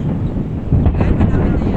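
Strong wind buffets the microphone outdoors on Hong Kong's National Day fireworks night, a steady low rumbling roar that swells around the middle and keeps blowing to the end.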